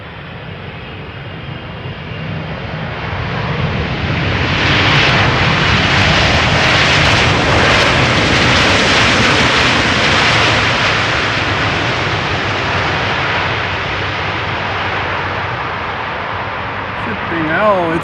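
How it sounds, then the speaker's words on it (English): A Boeing 777 airliner rolls along the Polderbaan runway at Schiphol, its jet engines swelling into a loud, broad roar that peaks midway and holds with a steady rumble, while someone talks over it. "It's the 777s that are doing the long wheelies today."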